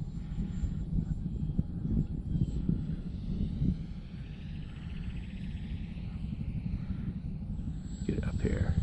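A small electric RC model airplane, a SIG Four Star 20e, flies overhead with a thin, faint whine that drifts in and out over outdoor wind rumble while someone talks.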